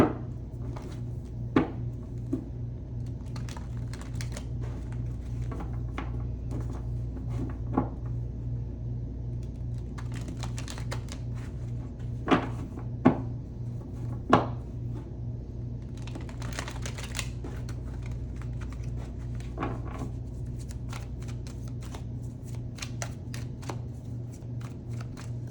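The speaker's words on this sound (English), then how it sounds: "We're going to shuffle the deck." Tarot cards are shuffled repeatedly in soft riffling bursts, with occasional sharper taps and a low steady hum underneath; no one speaks.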